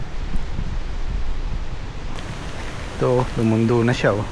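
Strong gusty wind batters laden fruit trees in a dry storm without rain, a broad rushing roar with rustling, and a person talks briefly near the end.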